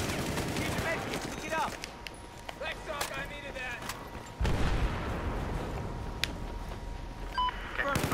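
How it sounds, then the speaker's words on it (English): Incoming gunfire aimed at the player in Battlefield 4: rapid bursts of shots at close to mid range, scattered through the clip with a heavier stretch in the second half, under someone talking. "Why are you shooting me?"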